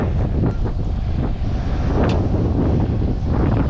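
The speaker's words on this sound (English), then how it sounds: "We got wind." Strong outdoor wind roars continuously against the microphone in a snowy area, a loud, steady rushing buffet with brief gusty swells and no talking.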